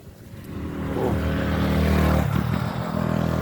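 A motorcycle engine swells closer and rises in pitch with a steady growl, then dips briefly and picks back up as it passes nearby, loud and alone.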